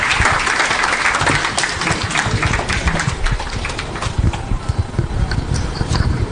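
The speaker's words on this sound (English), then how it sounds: "One more big round of applause for the wonderful couple" A crowd applauds loudly and steadily, dense clapping sustained throughout without pause.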